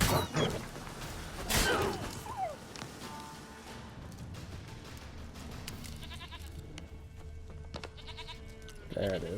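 A goat in The Witcher 3 video game bleats amid game ambience, with a loud burst early on followed by quieter, wavering calls and scattered sounds across the rest.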